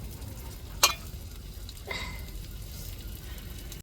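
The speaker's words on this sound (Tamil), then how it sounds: "இப்போ மீதி கனவாயும் எண்ணெயில் அப்படியே போட்டு பொரிச்சிருவோம்." Squid pieces frying in hot oil for a home dinner, a soft steady sizzle with a sharp crackle near the start and a brief burst of spattering a little later, no talk.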